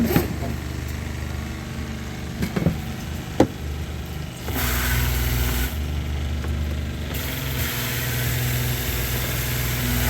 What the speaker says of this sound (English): cut that off, and the pump stops